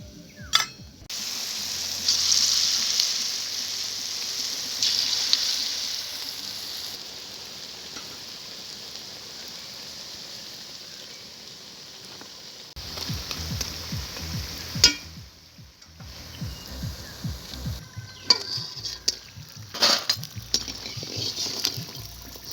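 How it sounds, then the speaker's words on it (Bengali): Coriander-leaf pakoras fry in hot oil, a continuous bubbling sizzle that rises and fades, with intermittent stirring clinks and scrapes in the later part, close and without talk. "বাকি পকোড়াগুলো আমি এরকমভাবে ভেজে নেবো"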